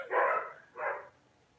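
Household dogs give two close, loud howling barks, a longer cry followed by a shorter one, then quiet room noise.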